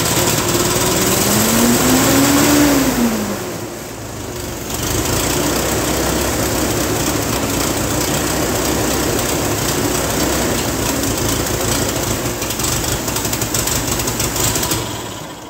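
A 1949 Ferguson TE20 tractor engine with carburetor trouble runs loud and near, a steady rough drone with a brief dip partway through and a rising-falling tone early on.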